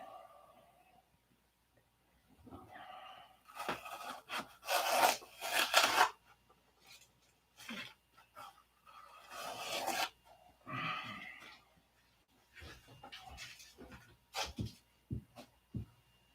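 Wood is sanded by hand in irregular rasping strokes, some louder and some softer, with pauses between them at close range, while a person talks faintly in the background at times.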